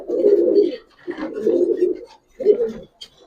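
Two female Giribaz pigeons coo nearby in three soft, throaty phrases with brief gaps between them.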